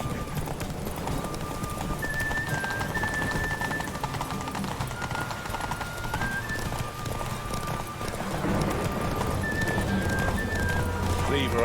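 In The Witcher 3, a horse's hooves clip-clop in a steady running rhythm throughout, close and clear, under continuous game voices and ambience.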